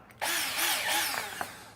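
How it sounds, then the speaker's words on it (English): A power drill fitted with a wood bit spins up abruptly and runs steadily through wood, a loud close whine with slight pitch wobbles as it bites, alone without talk. "I got a wood drill here."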